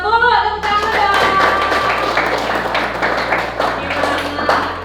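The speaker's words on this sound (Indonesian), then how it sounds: "Tepuk tangan dong." A class claps hands together during a school lesson, producing close, loud, irregular slaps and taps over about five seconds. A brief voice-like tone sounds at the start.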